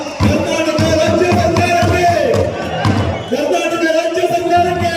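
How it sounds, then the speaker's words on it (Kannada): Crowd applause and cheering fill a large hall at a government guarantee convention in Chikkamagaluru, loud and sustained, with a brief dip partway before it swells again. "ಬಂಧುಗಳೇ, ಒಂದು ಜೋರಾದ ಚಪ್ಪಾಳೆಯಲ್ಲಿ ಅಭಿನಂದನೆ ಹೇಳೋಣ"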